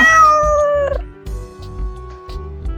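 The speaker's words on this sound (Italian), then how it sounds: "il gatto continua a sgnaolare" A cat in an animated Friulian story about a fisherman's cat gives a loud, drawn-out meow at the start, followed by quieter rhythmic background sounds.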